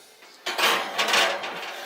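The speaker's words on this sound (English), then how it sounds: "let's put it in the oven." A dish being put into an oven, a brief clatter of metal and ceramic with a scrape and knock over about a second and a half, close and fairly loud.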